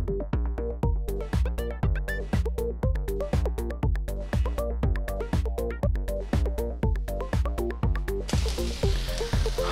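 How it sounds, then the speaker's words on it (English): Fried rice with a melting sauce sizzles in a pan for Chinese-style cooking, and a loud, steady frying hiss runs throughout. A strong regular rhythmic pulse plays over it, and the sizzle swells brighter near the end. "Oh, listen to that wonderful sizzle"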